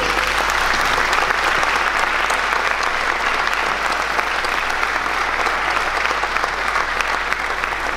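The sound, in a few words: audience applause at a concert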